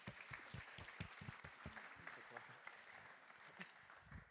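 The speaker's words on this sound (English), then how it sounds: "One round of applause." Brief round of clapping from an audience at an AI for robotics workshop, heard faint and distant, with scattered hand claps over a low room murmur.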